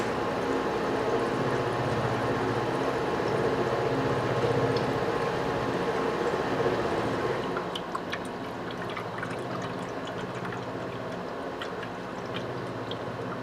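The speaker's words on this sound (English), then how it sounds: "I'm gonna add my coolant." Coolant pours steadily into a 427 big-block Chevy engine on a run stand, a continuous liquid rush that later thins into scattered drips and trickles.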